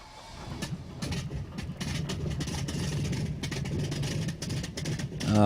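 An engine is started with a command and settles into a steady idle: a low, rough rumble with rapid ticking pulses, fairly close, holding even and rising slightly near the end.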